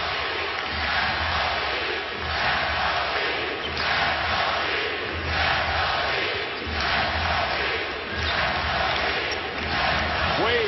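A basketball arena crowd roars steadily through an NBA playoff game between Boston and Miami, a dense wall of cheering that swells and eases in waves without a break.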